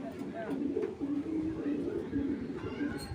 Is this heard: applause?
no